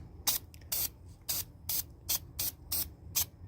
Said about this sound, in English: I just need to spray it on.